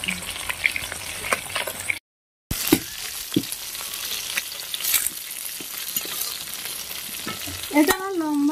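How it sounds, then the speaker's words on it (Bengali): Fish frying in a pan gives a steady broadband sizzle with occasional stirring clatter, briefly cut off near the middle. Faint voices and higher tonal sounds come in near the end. "এই যে আমাদের এখানে মাছ ভাজা হচ্ছে।"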